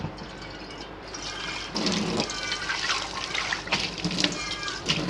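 Cumin seeds swished and stirred by hand in a bowl of water, a steady watery sloshing and trickling that swells louder about halfway through, close and alone.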